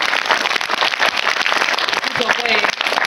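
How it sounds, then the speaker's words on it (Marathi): Children clap together in a Zilla Parishad primary school classroom in Kotnandra, a dense, steady patter throughout, with young voices calling out over it toward the end. "वा वा वा, टाळ्या वाजवा"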